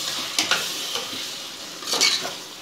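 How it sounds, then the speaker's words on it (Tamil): Soaked basmati rice is stirred in hot oil in a pan, with soft scraping strokes of a spoon and a faint sizzle underneath; two brief bursts of stirring stand out, close and quiet, with no voices. "பாஸ்மதி ரைஸை இதில் போட்டுக்கலாம் போட்டுட்டு நல்லா கலந்து விட்டுக்கோங்க"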